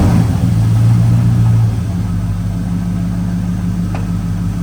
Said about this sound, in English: we'll put a little bit more gas